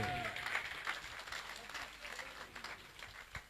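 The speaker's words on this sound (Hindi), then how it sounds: "एक बार जोरदार ताली कलम जी के लिए भी होनी चाहिए।" Applause from a railway police audience for a team leader, a broad wash of clapping that stays steady and moderately loud across the whole stretch, with some crowd noise mixed in.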